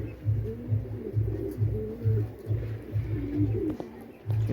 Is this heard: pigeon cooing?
yes